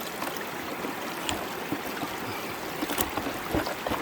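Water swishing and trickling as gold sluice matting is washed by hand in a river bucket, soft irregular splashes over a constant flowing murmur, close but fairly quiet.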